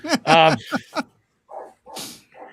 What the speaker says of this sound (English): even the dog's barking at you